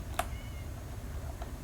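A cat in the video game Minecraft gives one short, sharp meow near the start, then a fainter second meow later, heard over a low, steady background rumble.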